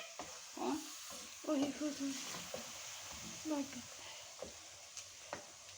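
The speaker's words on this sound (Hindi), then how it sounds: "अच्छी तरह भून लेंगे।" Chicken karahi fries in a pan, a soft steady sizzle with bursts of crackling and stirring scrapes, heard close and fairly quiet with someone speaking over it.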